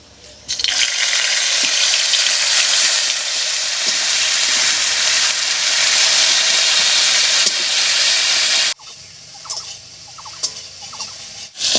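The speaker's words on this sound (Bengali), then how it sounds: "এবার এর মধ্যে দেব গ্রেট করা পেঁয়াজ" Grated onion hits hot oil tempered with cracked cardamom for potato curry, bursting into a loud, steady sizzle that lasts about eight seconds before cutting off to quieter kitchen clatter.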